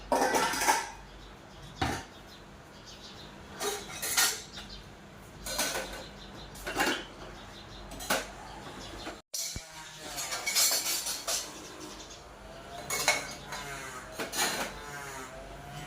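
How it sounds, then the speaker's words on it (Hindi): Dishes, pots and cutlery clatter and clink in a home kitchen as washed utensils are set in place, with repeated sharp knocks and rattles spread across the recording, fairly close and with no talking. "बस अब बर्तन लग चुके हैं।"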